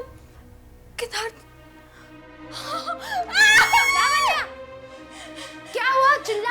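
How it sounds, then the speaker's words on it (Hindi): A woman screams in a Hindi horror drama scene, a high wavering cry rising loudly in the middle and returning near the end over a low background score. "चिल्ला क्यों रही हो?"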